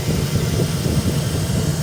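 A 6.0-litre V8 in a 2003 Chevy Express 3500 extended passenger van idles steadily with a low, even rumble, heard close with no talk.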